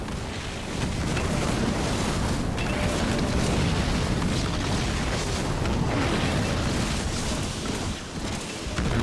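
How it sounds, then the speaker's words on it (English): Anti-vehicle turrets firing in a Halo Wars 2 battle: a dense, continuous roar of booming blasts and bursts at steady loudness, with no talk over it. "The anti-vehicle turrets are working very hard too."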